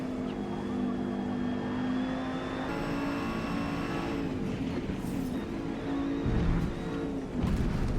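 An Audi Quattro GTO race car in the Forza racing game, its engine droning steadily and loud throughout, shifting pitch as it accelerates and changes gears.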